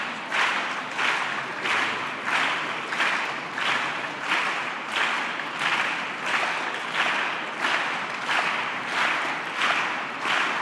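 Sustained audience applause at a religions summit session, many hands clapping together in a dense, even wash that swells in regular pulses and carries on without a break.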